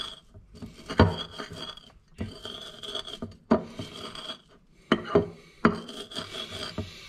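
Chopped garlic being ground with salt and pepper into a paste for a smoky whisky rub, repeated rough rasping scrapes in uneven strokes, close and fairly quiet.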